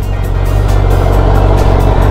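Honda CBR1000 SP motorcycle engine running steadily at idle or low revs, a loud, close, continuous throaty rumble with no talking over it.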